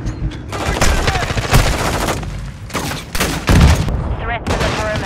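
Dense rapid gunfire bursts rattle through a Call of Duty Modern Warfare 2 multiplayer match, loud and close, with explosions-like thumps and overlapping game voice callouts between volleys.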